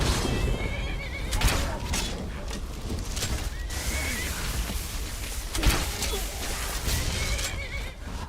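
A horse in the video game Skyrim neighs and whinnies repeatedly over a busy, noisy background of thuds and clatter, fairly loud and close.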